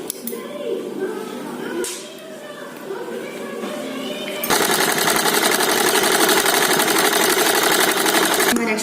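A sewing machine stitches the lining of a double katori blouse, its steady rapid whirring starting loud and close after a stretch of talking and running on continuously to the end.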